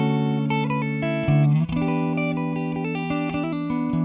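Clean electric guitar, an Ernie Ball Music Man Cutlass played through a 1980 Fender 30 blackface tube amp with no effects, sounding as sustained chords and picked notes, steady and close.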